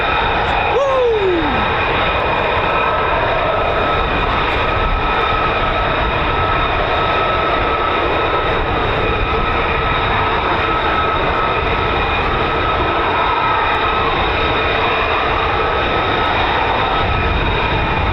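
An F-15 or F-35 fighter jet engine at RAF Lakenheath air base roars loudly and continuously for the whole stretch, a dense sustained rumble with a steady whine above it.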